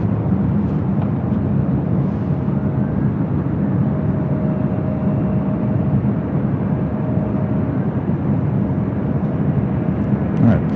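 A jet airliner takes off from runway 25 right at LAX, giving a steady, loud, broadband roar that holds at an even level for the whole stretch, with no voices over it.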